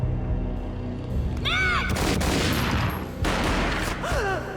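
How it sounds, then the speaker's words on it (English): Gunfire in the Max Payne video game, a booming shot with a dense burst of crackling reports and rising whooshing tones under a heavy music-and-effects bed, no talk. "A gunshot boomed and she fell down in slow motion."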